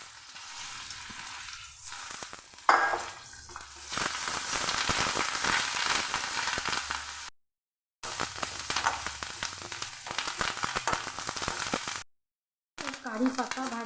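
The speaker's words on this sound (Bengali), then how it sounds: "কারি পাতা ভাজা হয়ে গেছে।" Curry leaves frying in hot oil with turmeric, a loud crackling sizzle with sharp pops near the start, continuing steadily close up through two brief silent cuts, with a voice speaking over parts of it.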